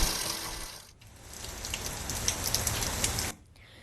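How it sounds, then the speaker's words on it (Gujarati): Steady light rain falls during a monsoon spell in Chhota Udaipur district, Gujarat, a dense, even patter close by that continues without pause before dropping away near the end. "છેલ્લા 1 કલાકથી ધીમે ધારે અહીંયા વરસાદ ચાલુ છે."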